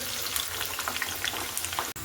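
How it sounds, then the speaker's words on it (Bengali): Onions sizzling as they fry in hot oil, a steady dense crackle with small pops close to the pan, alone for about two seconds. "এবার আমি পেঁয়াজগুলো দিয়ে দিচ্ছি।"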